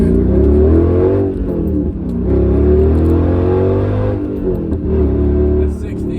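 A Mercedes C55 AMG with a six-speed transmission accelerates hard from 0 to 60 on an open road, its engine roaring loud and continuous through shifts, with a brief dip near two seconds and another near four, while a person talks over it.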